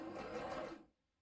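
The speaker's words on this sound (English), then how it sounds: "My sewing machine is on its last leg." A worn, failing home sewing machine running a double-stitched seam, a steady whirring mechanical drone for under a second before stopping abruptly into silence, close and fairly quiet.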